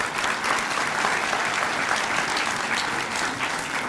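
A large audience at a school district winter commencement ceremony applauds steadily, a dense, even roar of many hands clapping throughout with no talking over it.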